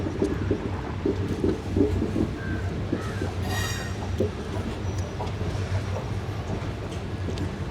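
The 22652 Chennai Superfast rolls from Palakkad Junction onto the Pollachi line, heard from inside a First AC coach as a steady low rumble of wheels with rhythmic clacks and a brief wheel squeal midway.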